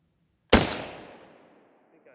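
A single loud rifle shot from a .303 British Lee Enfield No. 4 Mk 1, fired outdoors at a target, with a sharp crack followed by a long fading echo.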